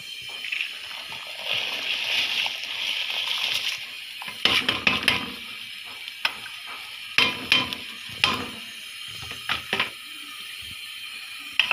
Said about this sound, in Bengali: আসেন চাল আর ডালগুলি দিয়ে দিই